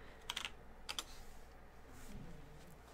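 Soft keystrokes on a computer keyboard come in two short bursts, faint and close in a quiet room.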